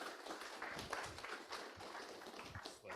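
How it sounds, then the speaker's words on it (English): Audience applause at a SMPTE Toronto chapter meeting: a dense, steady wash of many hands clapping together, fairly loud and sustained for the whole stretch without a break. "Round of applause."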